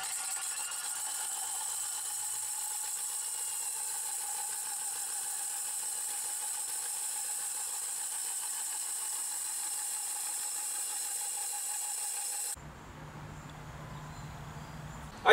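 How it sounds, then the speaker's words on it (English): A diamond-coated hole saw grinds through a brick exterior wall, a steady high whine and rasp that runs unbroken for about twelve seconds before cutting off abruptly into a quieter tail. "Use slow to moderate speed as you're drilling through the brick."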